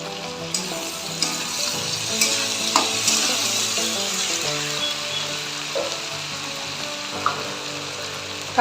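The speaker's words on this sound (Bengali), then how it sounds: "এবার আমি এখানে কুচি করা টমেটোগুলো দিয়ে দিচ্ছি। এগুলো ভাজতে থাকি, নরম হয়ে যাবে।" Chopped tomatoes frying in a pan, added after ginger, with steady broadband sizzling and intermittent spoon stirring clicks and scrapes throughout, close and continuous, no speech.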